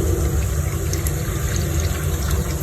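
Water poured from a cup into a cooking pot of garlic, cumin and coriander, a steady loud splashing and gurgling stream that fills the whole moment without a break.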